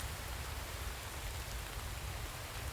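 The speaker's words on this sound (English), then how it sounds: "At least we're out of the rain." Steady rain pours down in a survival building video game, a dense, even hiss of falling drops that holds level and unbroken from start to finish with no voices over it.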